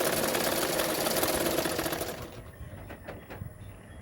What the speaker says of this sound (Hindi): ऊपर से दिखते हुए इसी तरह से सिलाई कर रही हूँ।